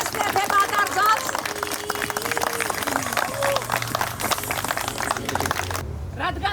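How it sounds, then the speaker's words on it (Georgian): A crowd claps at a Georgian wedding, with dense, continuous applause under a voice that cuts off abruptly near the end. "კიდევ ერთხელ აპლოდისმენტები"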